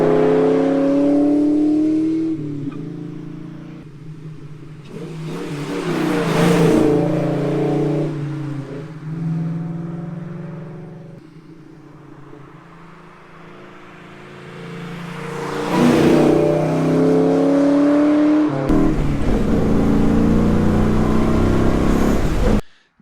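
A Ford Mustang GT fitted with BBK long tube headers and an X-pipe revs repeatedly, each loud blip rising and falling between idle stretches, with a sharp, raspy exhaust roar close by.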